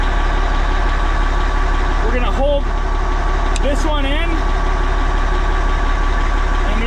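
A Caterpillar D10T dozer engine idles steadily and loud throughout, a constant low diesel rumble with someone talking over it.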